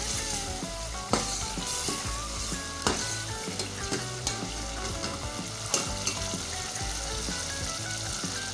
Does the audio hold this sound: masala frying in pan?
yes